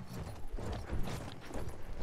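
Horse hooves galloping in the Battlefield 1 video game, a continuous rapid clip-clop rhythm under busy in-game battle noise, fairly close throughout.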